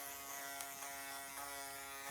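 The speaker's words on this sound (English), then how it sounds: "I take my foil shaver and I'm just gonna run it right on top of everything." An electric foil shaver running over freshly cut hair during a short military-style haircut, a steady close buzzing hum with faint rhythmic scraping, no talking.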